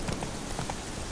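Roach the horse's hooves in The Witcher 3 video game, a quick run of soft clip-clop hoofbeats over a steady rain-like background hiss, brief and fairly close.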